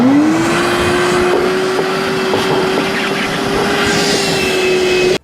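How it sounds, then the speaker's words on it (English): Shop vac vacuuming a car interior, a loud steady motor whine that rises in pitch at the start and holds continuously, with brief suction clicks and rattles, then cuts off abruptly at the end. "So first thing we're gonna do is just do a quick vacuum. I've got my shop vac."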